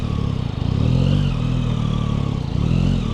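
A motorcycle engine revs steadily and loudly close by, a continuous throbbing idle with rises in pitch, while maneuvering onto a wide sidewalk.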